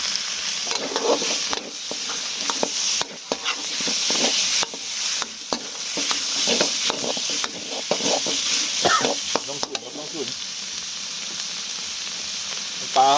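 Pork belly sizzles loudly in a hot pan with fried curry paste for Thai eggplant curry, a steady frying hiss broken by repeated scraping stirs and clinks of a utensil, close up with no talk.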